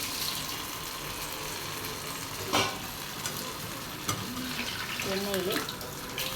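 Slices of bread deep-frying in hot oil for a Kerala-style bread fry give off a steady, dense sizzle and crackle, with a few brief clinks and stirs rising above it.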